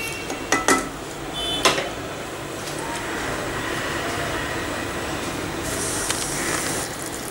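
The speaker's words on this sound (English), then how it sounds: "Just mix it well." Capsicum stirred through cashew nut paste in a pan, with a few sharp metallic clinks of a utensil on the pan early on, then a steady soft scraping and bubbling texture.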